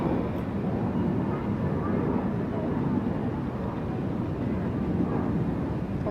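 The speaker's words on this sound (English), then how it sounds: "The airplane." A passing airplane overhead, a broad steady roar that hangs at a constant level for several seconds, heard from a distance and uninterrupted.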